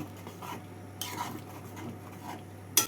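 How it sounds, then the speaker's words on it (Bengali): Mung dal with a fish head being stirred in a pot, with soft scraping and clinks of a spoon against the metal and gentle bubbling, plus a sharper clatter near the end. "এবার ডালটাকে নাড়াচাড়া করে ভালো করে ফুটিয়ে নেব"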